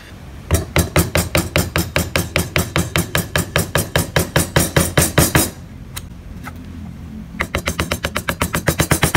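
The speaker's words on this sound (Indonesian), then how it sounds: "Untuk membuat bentuk hidung di bagian sebelah sini kalian bisa menggunakan pahat kol ya teman-teman" A mallet drives a gouge chisel into wood while a barong motif is carved, making loud, close, rapid knocks in a steady rhythm that pause briefly for about two seconds, then resume.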